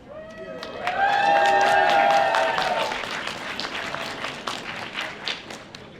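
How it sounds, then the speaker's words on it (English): A convention audience at a costume contest at Game On Expo 2024 applauds and cheers loudly for a few seconds, with whoops over the clapping, which then fades into scattered claps. "just give them a big round of applause every single time"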